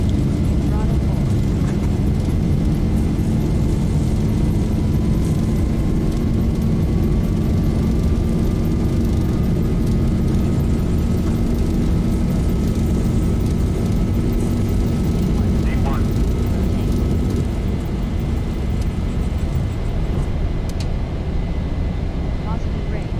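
Boeing 737 jet engines roar at takeoff thrust in the X-Plane flight simulator, a loud, steady, continuous rumble with a faint rising whine that holds for the whole stretch.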